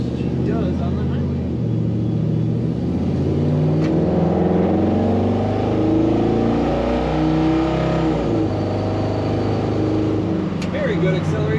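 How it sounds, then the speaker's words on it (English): A 1967 Chevrolet C10 shortbox stepside pickup with a column-shift automatic accelerates hard on a highway, its engine note climbing steadily and stepping through shifts in a loud, continuous drone from inside the cab. "Very good acceleration in this truck."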